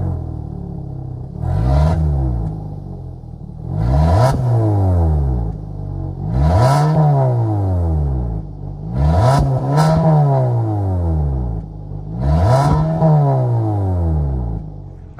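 The 2.5-liter four-cylinder in a 2023 Kia Sportage is revved five times in steady succession, each rev surging up and dropping back down, loud and close with no talk.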